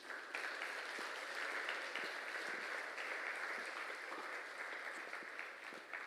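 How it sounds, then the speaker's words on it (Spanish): A church congregation applauds with steady, dense clapping that lasts throughout, with no break. "Dale un aplauso a Jesús."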